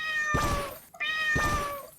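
Twice, a cat in the Roblox video game gives a clear, close meow, the two calls spaced about a second apart with a brief gap between them.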